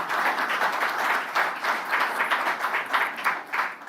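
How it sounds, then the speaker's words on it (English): An audience at the commissioning of Zenith Bank's Manchester branch in the UK applauds the bank's chairman, a steady, moderately loud round of clapping with a pulsing rhythm. "Please give our chairman a round of applause"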